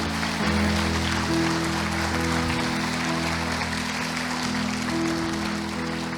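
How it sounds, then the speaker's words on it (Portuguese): A church congregation applauds during a revival conference service, steady clapping over a low sustained hum of music and room noise. "pode aplaudir o Senhor"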